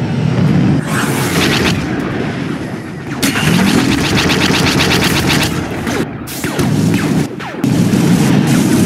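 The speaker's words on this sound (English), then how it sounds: "Proton torpedoes are ready." Proton torpedoes launch at an enemy starfighter in a Star Wars Battlefront 2 space battle, amid loud continuous booms, rapid blaster bursts and roaring engines, with sweeping whooshes and sharp impacts throughout.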